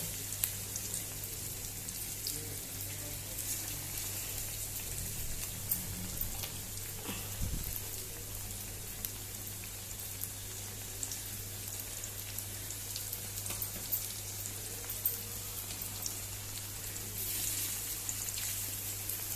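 Kingfish fries in a pan with a soft, even crackling hiss that pops lightly and keeps a low steady level throughout, with a faint hum underneath and no talking.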